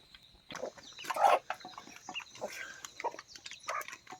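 Village chickens and a rooster on a farm with naturally hatching hens, heard as scattered clucks and calls of moderate loudness, with one louder call near the start and softer bursts following, no talk.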